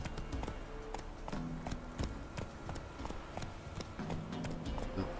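The horse Roach gallops in The Witcher 3, a steady, rhythmic clip-clop of hooves that continues evenly throughout at moderate loudness, alone.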